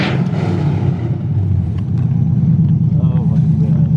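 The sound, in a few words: V8 Toyota Cressida doing a burnout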